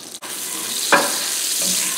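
Butter and a little oil sizzle in a medium pan on a stove, a close, steady frying hiss with a brief scrape or stir partway through.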